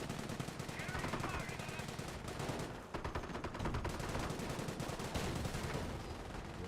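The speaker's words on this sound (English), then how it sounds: "MMG carrier firing away, suppressing down the G43 squad" Sustained rapid bursts of medium machine gun fire from an MMG carrier in Company of Heroes battle, dense rattling volleys running almost continuously with a brief dip near the middle, a voice talking faintly beneath.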